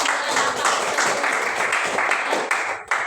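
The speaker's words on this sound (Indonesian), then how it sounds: "beri tepuk tangan untuk kelompok 1" A school class applauds a student group, with dense, sustained clapping from many hands that fills the room and tails off near the end.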